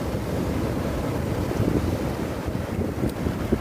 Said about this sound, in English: you can hear the splashing of the water here